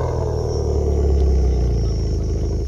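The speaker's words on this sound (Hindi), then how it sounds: "बाकी एग्जॉस्ट नोट जो है मैं आपको सुनाने वाला हूँ एक बार इसका" Exhaust note of a Maruti Baleno, a steady deep engine rumble with a droning low tone and slight clatter, close and fairly loud throughout, with no one speaking over it.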